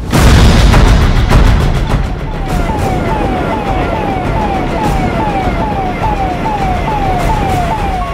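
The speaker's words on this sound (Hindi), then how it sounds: "सायरन बजाती सड़कों पर दौड़ती यह है कोविड टेस्ट मोबाइल वैन" A COVID test mobile van's siren wails in a repeating rising-and-falling cycle on a village road in Darbhanga, loud and close, over vehicle rumble, with a heavy low boom at the start.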